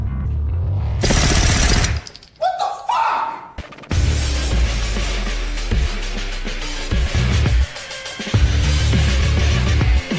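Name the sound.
gunfire in an action film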